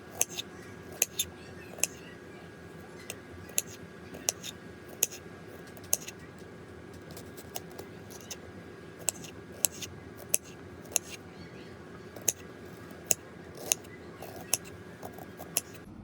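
A knife slicing raw mango into pieces: sharp, irregular clicks and cuts land one after another at a loose rhythm, close and clear over a quiet background hum.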